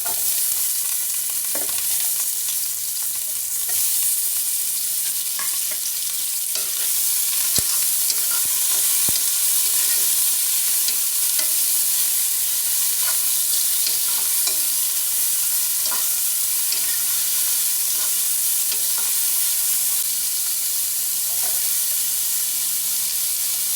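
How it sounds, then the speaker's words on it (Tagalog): Onion sautéing in a little oil in a home kitchen pan for sardines with bottle gourd and moringa, a steady close sizzle with occasional stirring scrapes and clicks, no talking. "Gagamit tayo ng konting oil para igisa natin ang onion."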